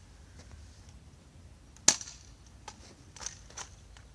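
An airsoft M4A1 fires a single sharp shot, a crisp, close snap standing out from a quiet background, followed by a few faint clicks.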